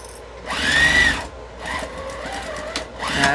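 A sewing machine stitches and backstitches a half-inch seam on a jelly roll tote bag, giving close, buzzing motor bursts that speed up and slow in short runs.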